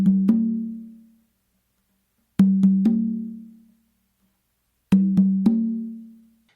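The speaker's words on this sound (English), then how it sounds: "So I start the whole pattern by doing 2 opens on my tumba." Open tones on a tumba conga in a guaguanco pattern ring out as three clean bursts of two or three quick resonant hits each, evenly spaced and close, with silence between groups and no talk.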